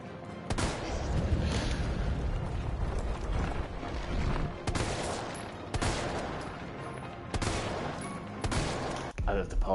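Bursts of gunfire erupt repeatedly in Resident Evil 3, with sharp shots and rattling volleys spaced across the stretch, moderately loud.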